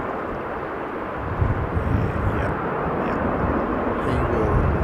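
Airliner taxiing at Sydney Airport, heard as a broad, steady rumble of jet engines that swells slightly partway through, mixed with wind noise on the microphone and no speech.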